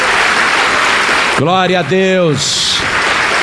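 Church congregation clapping fills the room steadily throughout, while a voice calls out loudly over it for about a second.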